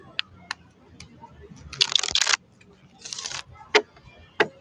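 Bursts of papery riffling and flicking as a deck of tarot cards is shuffled, two longer bursts plus a few sharp snaps, close and moderately loud.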